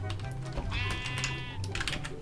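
In the video game Banished, a sheep bleats once, a clear drawn-out wavering cry lasting about a second, as it is sheared, over a steady low background hum with faint clicking.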